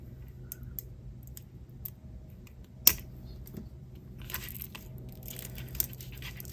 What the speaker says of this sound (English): Let me cut off the excess beading wire.